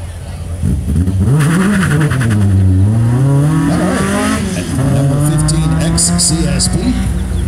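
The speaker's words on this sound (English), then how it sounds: "CSP takes off with just a little bit of smoke and a wheel spin, giving us a little show as he takes to the track" 2001 Honda S2000 race car launching off the line at an autocross with a bit of wheel spin and smoke, its loud engine revving and rising through gears up close, with a voice talking over it.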